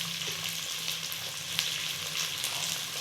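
Chopped carrot, beans and tomato fry in hot ghee inside a pressure cooker for vegetable pulao, giving a steady, close sizzle with faint crackles and the occasional stir, no voices.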